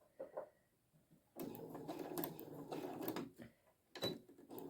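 Domestic sewing machine stitching a patchwork coaster (mug rug), starting with a quick backstitch: a short quiet whir, then a steady close run of rapid stitching lasting a few seconds, pausing briefly before another short burst.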